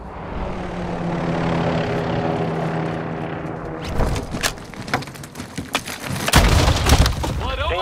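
Care package aircraft in Call of Duty: Modern Warfare II arrives as a steady droning engine rumble, then gives way to loud clattering impacts and bursts of game noise, with no talk.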